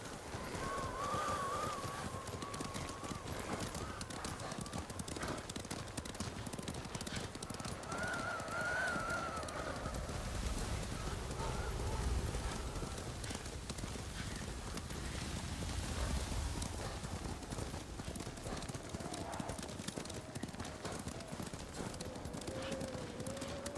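Horse hooves clip-clop steadily through rain in the samurai game Ghost of Tsushima, a continuous rhythmic trot under rainfall with faint music and occasional voices.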